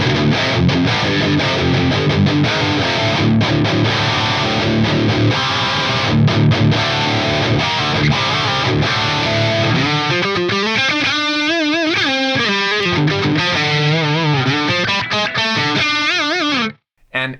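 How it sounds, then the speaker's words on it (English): Electric guitar played through a USA Lead amp model with the overdrive control turned all the way up, giving a loud, heavily saturated high-gain tone of sustained chords and bending lead lines that ends with an abrupt stop. "I just like to use the overdrive control and turn it all the way up to get even more gain."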